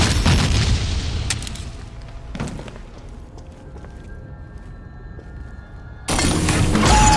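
Bombs exploding in the video game Meet Your Maker: a heavy, rumbling blast that decays into a low roar, with sharp thuds along the way and a second loud burst near the end.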